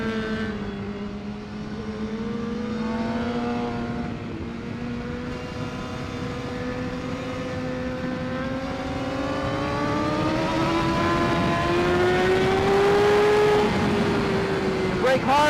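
Sportbike engine pulling hard on a racetrack as the rider rolls on the throttle, a loud continuous whine climbing steadily in pitch over several seconds, with an instructor talking over it.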